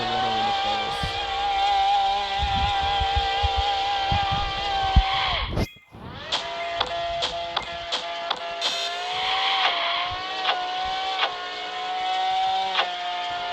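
A custom drag racing car in Drag Racing Streets roars at high revs, its engine note climbing steadily, cutting out briefly on a gear shift, then winding up again with sharp clicks and strong, continuous acceleration.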